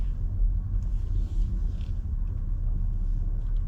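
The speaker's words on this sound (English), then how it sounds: "I'm going to try not to crash my car as I back into my campsite." A car backs slowly into a campsite, its engine giving a steady low rumble close by throughout, with no voices.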